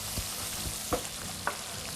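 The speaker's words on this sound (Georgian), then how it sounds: "გახედოთ სოკოს, უკვე ნელა იბრაწება ლამაზად" Mushrooms browning slowly in a frying pan for a Georgian braised beef and mushroom dish with bacon, giving a soft steady sizzle with a couple of brief stirring scrapes, close and fairly quiet.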